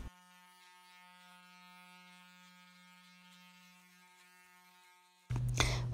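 An electric hair clipper fitted with a guard comb buzzes steadily while cutting a toddler's hair at home, a close, even hum that runs alone for several seconds before ending in a sudden burst of louder noise.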